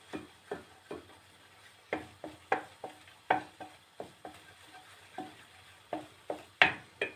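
Flour roasting in a pan for helva, stirred quickly with a utensil, giving repeated sharp scraping clicks and taps in an irregular rhythm over a faint sizzle, close and without talk.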